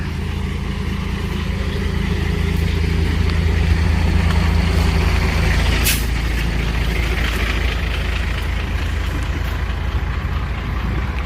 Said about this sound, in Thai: นี่เขามีรถไถมาให้ด้วยแฮะ